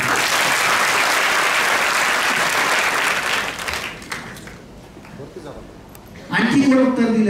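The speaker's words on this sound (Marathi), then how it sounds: "टाळ्या वाजवा तिच्यासाठी" Loud applause from a classroom of entry-level students clapping for a classmate, sustained for about four seconds before fading out, followed by a teacher talking.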